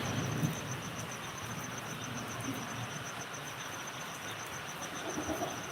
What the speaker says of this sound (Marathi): आवाज येत असेल की पाऊस पडतोय